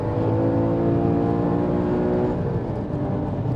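Porsche Cayman 981 GT4 sports car engine revving hard on a race track, a loud, sustained harmonic roar held close throughout with a slight dip near the end.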